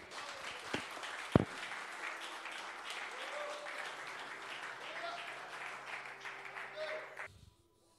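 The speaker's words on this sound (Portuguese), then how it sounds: "Pode aplaudir." A church congregation at a conference applauds, steady clapping spread across a large room, fairly faint overall, with a sharp louder clap or knock early on and the applause cutting off abruptly near the end.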